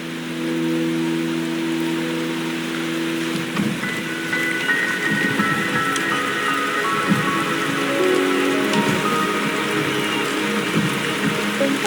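Rain patters steadily in the Wuthering Waves video game, a constant close wash of drops hitting surfaces, layered with soft sustained musical tones and no speech.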